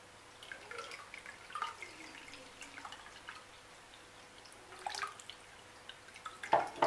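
Beetroot and orange juice dripping through a sieve into a bowl in a kitchen, quiet scattered drips and trickles at irregular intervals, faint and close, with a slightly louder splash near the end.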